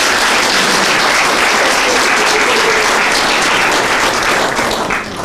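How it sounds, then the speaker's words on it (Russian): Loud audience applause at a university master class: thick, continuous clapping fills the whole span at an even level without a break. "Еще раз аплодисменты, друзья."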